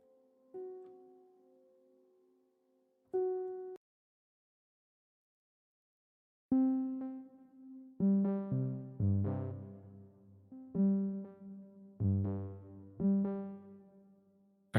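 A Spitfire sample library plugin in Ableton playing tonal notes with clean, decaying tails, one held note first, then after a silence a busier run of punchy, layered notes, alone with no talking.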